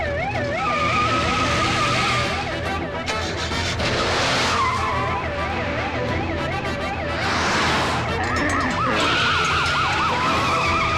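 An ambulance siren wails in rising and falling cycles in a Tamil film chase scene, loud and close, mixed with car engines and tyre skids.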